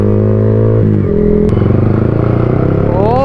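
An overheated motorcycle idles with a steady harmonic hum, gives a brief clattering knock, then its engine rises into a sharp rev at the end, close and loud.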